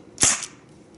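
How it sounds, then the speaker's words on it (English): A single sharp crack from a Bear River 4-inch chrome all-metal CO2 BB revolver, loud and close, followed by a brief fading tail. "firing double action on this thing is just like a real revolver"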